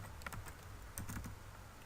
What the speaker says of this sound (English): So we type in the journal name.